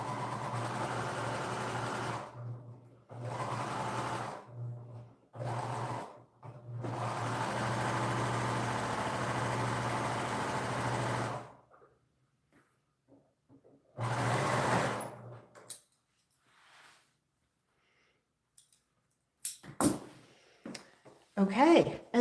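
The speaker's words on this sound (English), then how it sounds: "I'm going to sew down that entire seam" A sewing machine stitching down a long seam in several close, steady runs of motor whir and needle hum, stopping and starting, followed by quieter handling clicks and a brief voice.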